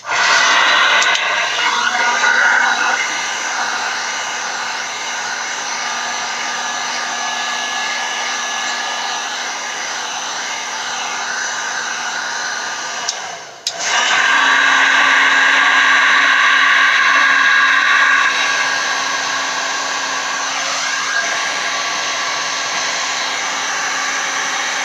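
A heat tool blows hot air onto handmade tile coasters, a loud, close, steady whirring blower hum with a faint whine, briefly cut off around the middle and then started again at full strength.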